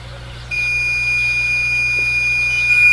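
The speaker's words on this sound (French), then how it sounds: "Le bip de fin de cycle." A single steady electronic end-of-cycle beep from an automatic panoramic photo head starts abruptly and holds as a sustained high tone over a low background hum.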